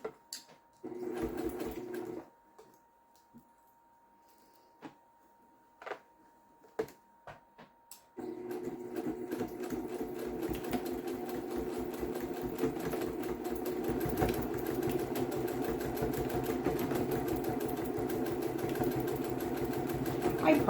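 A sewing machine stitches a headband made from scrap fabric. A short burst and a few faint clicks are followed by a long, steady, near run of stitching that fills the second half.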